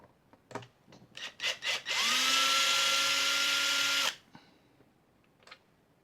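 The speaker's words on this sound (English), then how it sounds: "I'm noticing now that I'm taking the screws out" A power driver backs screws out of a thick Harley Benton TE-90FLT guitar body, several short bursts of whirring followed by one sustained two-second whine, close and loud, with handling clicks around it.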